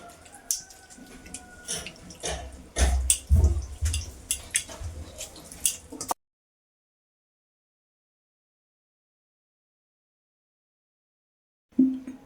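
Water from washed potatoes pours through a kitchen sieve in bursts of splashing and dripping for several seconds, then stops to silence before a short final splash.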